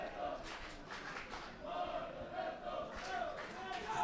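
Trento fans in a basketball arena roar and chant together in a sustained, swelling crowd din, loud and continuous, rising again in the second half of the game's closing moments.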